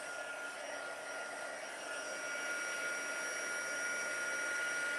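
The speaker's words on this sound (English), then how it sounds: "And now we're going to use our heat gun" A heat gun drying paper gives a steady, loud blowing whoosh with a faint high whine, running unbroken at a constant setting throughout.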